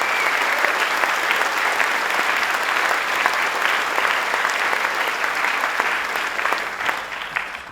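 Steady, dense applause from a large audience at a governor's announcement event, a continuous wash of clapping heard alone throughout.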